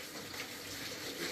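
Tap water runs steadily and softly into a sink, rinsing a bunch of herbs in a brief, even stream.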